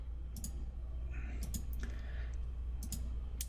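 Computer mouse clicking at a desk, a few sharp isolated clicks scattered over a steady low hum, near and crisp.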